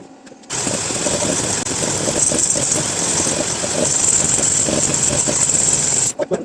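A 1942 motorized bicycle's small engine sputters as it tries to start, giving a steady, close, rattling chug that holds for about six seconds before cutting off.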